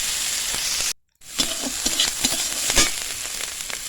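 Finely chopped capsicum added to a pan of cooked onions, a close, bright sizzle with a sudden brief silence, then resuming with crackles and stirring knocks.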